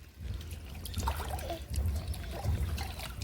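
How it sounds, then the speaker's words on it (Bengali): Ducks bathing in a small pool, splashing and churning the water in soft continuous ripples and dribbles, close and low in level, no voices. "জলে ঢেউ দিচ্ছে, চান করছে এবার।"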